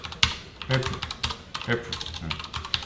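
Fingers tap out a short word on a computer keyboard, entering a command into a running Python program; a quick, close burst of uneven clicks lasting about three seconds.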